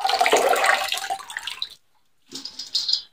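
Water trickles and splashes as soaked moong dal drains through a strainer, falls briefly silent, then runs again in a softer burst.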